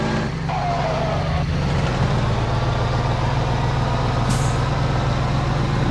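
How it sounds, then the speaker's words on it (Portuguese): A heavy truck engine in the video game Grand Truck Simulator 2 rumbles steadily throughout, with a brief hiss of air release partway in; no one speaks. "O caminhão perto de mim, cara, tá fazendo barulho."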